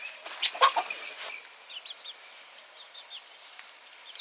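Chickens clucking softly from close by: a few louder squawks near the start, then a scatter of faint, short clucks over quiet ambience.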